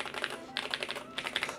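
Typing on a Venom88HE mechanical keyboard fitted with Tiger Lite and Gateron Jade switches, giving a close, crisp stream of irregular key clacks in short bursts, with no voices.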